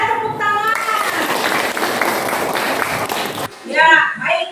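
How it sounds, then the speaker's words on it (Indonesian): A classroom of Indonesian students breaks into steady, dense clapping for about three seconds, bracketed by a teacher's voice speaking briefly before and after. "Iya, tepuk tangan"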